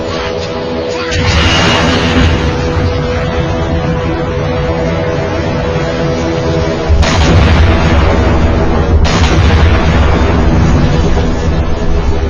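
A huge artillery cannon firing in the video game Halo 4, a loud sustained rumbling roar with heavy blasts and surging booms near 1, 7 and 9 seconds, dense and close throughout.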